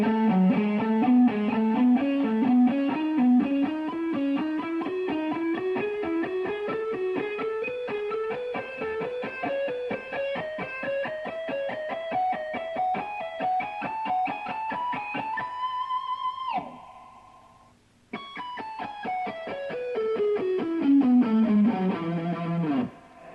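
Distorted electric guitar plays a fast shred lick, a rapid stream of notes climbing steadily, then a sustained bend, a brief cutout, and a quick descending run; loud and close with no talk.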